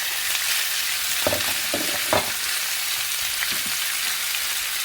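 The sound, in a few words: onion frying and being stirred in a pan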